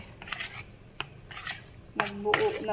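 Mango float ingredients being mixed in a bowl, with light clinks and scrapes of a utensil against the dish, a few scattered taps and then a brighter clatter at the end, fairly quiet and close.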